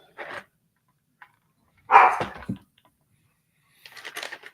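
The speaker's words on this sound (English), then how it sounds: "Dogs are barking." Dogs bark in a few sharp, separate bursts at moderate distance, one loud bark followed by shorter yips and a scattered last volley, with quiet gaps between them.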